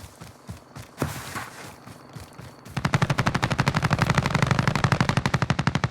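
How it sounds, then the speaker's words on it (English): Gunfire erupts in the Warzone Caldera video game: scattered footsteps and a few shots, then a long, loud rapid burst of automatic fire with rhythmic repeated cracks that continues to the end. "someone's shooting up here"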